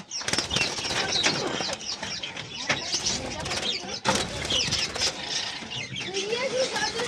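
Caged doves, including diamond doves kept with other small pet birds for sale, flap their wings in repeated rustling bursts, close and busy, with voices heard faintly in the background.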